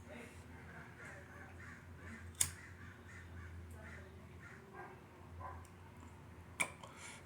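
Crows cawing in an outdoor setting, several faint hoarse calls scattered through the stretch with a couple of sharp ticks, distant and soft over low background rumble and some voice.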